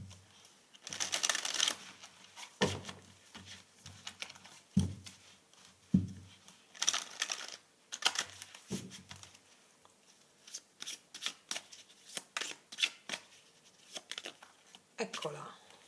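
Tarot cards are shuffled and handled up close in bursts of papery riffles, flicks and soft slaps, with a voice speaking quietly now and then between the card sounds.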